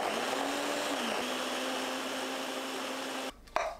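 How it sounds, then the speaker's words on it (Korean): A kitchen blender grinds pear, onion, green and red chili peppers, garlic, ginger syrup and water in a steady, loud whirring drone that shifts pitch slightly, then cuts off abruptly near the end with a brief clunk. "믹서에 배, 양파, 청양고추, 홍고추, 마늘 5개, 생강청 1/3 큰술, 물 300ml 넣고 갈아주세요."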